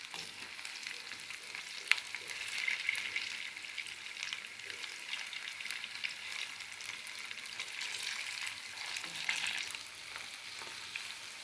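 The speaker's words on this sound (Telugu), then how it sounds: "ఇలా బాగా బ్రౌన్ కలర్ వచ్చే వరకు ఫ్రై చేసుకోవాలండి." Food sizzles steadily in a frying pan as it browns, a dense continuous crackle with occasional louder pops and scrapes, close and alone with no talking.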